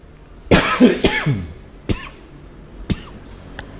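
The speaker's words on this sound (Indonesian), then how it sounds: "Sorry ya, lagi batuk." Several sharp coughs, a pair close together, then single coughs spaced apart, loud and close with no talking.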